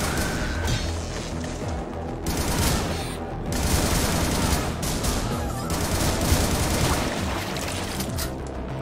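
Shotgun fire in the video game Butcher, heard as dense, loud, continuous bursts of gunfire and explosive crashes throughout, with no talking.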